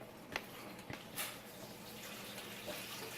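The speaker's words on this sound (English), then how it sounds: "got this big pitcher of water. Now we're going to fill this puppy up," Water running into a big pitcher, a steady broadband rush of flow that holds for the full stretch, with a few small splashy bumps and no talking.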